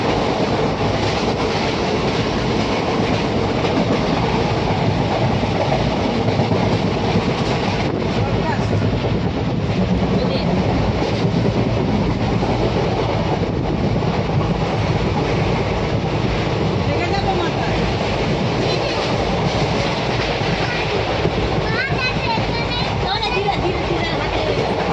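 A passenger train stands at a station after people step off, its steady rumble and rail noise filling the scene with constant wind buffeting and voices mixed in throughout.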